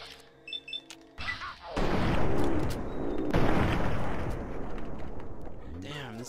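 Gunfire in Fallout 3, a heavy blast that swells into a long, loud rumbling roar lasting several seconds, then a second burst that trails off into quieter game sounds.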